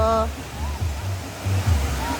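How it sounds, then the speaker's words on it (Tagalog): Loud, steady rushing water from Situbo Falls fills the scene, a dense broadband roar close by, with a few brief bursts of music or voices at the start and low murmurs underneath. "Rinig na rinig na yung ano, kung gaano kalakas yung tubig."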